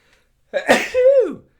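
A single loud, close sneeze bursts out with a sharp intake and a voiced, falling release.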